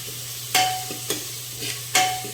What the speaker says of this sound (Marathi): लसूण आणि मिरचीची पेस्ट करून घेतली होती ती यामध्ये घालून घेऊया